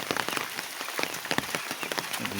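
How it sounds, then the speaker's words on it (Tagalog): Rain falling on a farm where chickens are kept, a steady close patter of drops on surfaces with dense irregular spatters throughout. "Dito silipin natin at umuulan."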